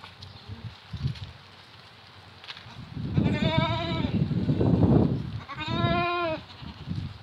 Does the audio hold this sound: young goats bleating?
yes